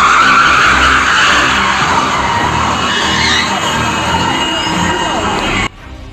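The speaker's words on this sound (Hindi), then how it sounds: "एक ट्रक अनियंत्रित और तेज रफ्तार से एक कार को रौंदता हुआ चला गया" A truck drags a crushed car along a rainy road at night, producing a loud, continuous grinding skid with a harsh scraping hiss that cuts off abruptly near the end.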